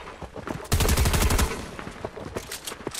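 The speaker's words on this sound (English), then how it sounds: "They're shooting at me through the box." Rapid bursts of automatic gunfire from the video game Fortnite, a dense, loud volley of shots followed by scattered single shots and smaller bursts.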